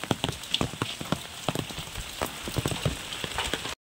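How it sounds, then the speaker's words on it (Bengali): Steady rain falls during a stormy day at home, patters on a surface with many crisp drops and irregular taps, fairly close and continuous without any talking. "দেখো, সেই বৃষ্টি হচ্ছে।"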